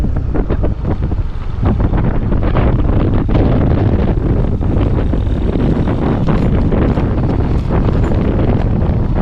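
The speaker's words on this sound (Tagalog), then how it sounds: "Paring Carlo, sobrang lakas na ng hangin." Strong, steady wind roars and buffets the microphone throughout, with a constant heavy rumble and no talking.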